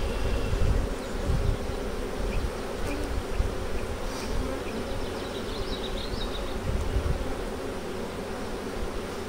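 Honeybees buzzing in an open hive, a dense continuous drone from many insects close up that stays steady with no voices over it.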